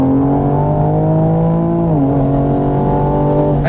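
A 2020 Toyota Supra's engine drones loudly and steadily from close by, its pitch dropping at a downshift midway before settling into a lower hum.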